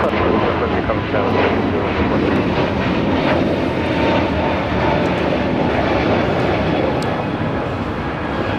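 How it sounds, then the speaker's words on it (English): A Spirit Airlines Airbus A321neo takes off at LAX, its jet engines producing a loud, continuous broadband roar that stays steady and close throughout, with some wind buffeting and faint radio-like voices underneath. "This is Spirit Airlines 128 taking off to Baltimore on an A321 Neo"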